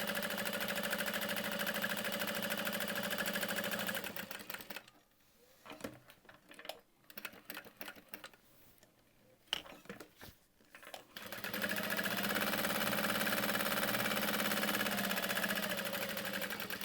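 Sewing machine stitching a small handbag with Tex 70 thread, a steady loud mechanical whir for several seconds, a quieter gap with scattered clicks and handling, then the stitching resumes steadily.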